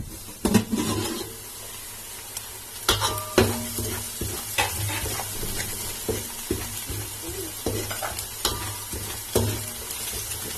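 Onions and masala sauté in a pot for Chettinad mutton biryani, with a low continuous sizzle and irregular scraping and clanking as a spoon stirs against the metal. No one speaks.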